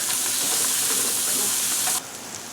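Onions frying in a pan make a loud, steady, bright sizzle that cuts off abruptly near the end, leaving quieter background noise.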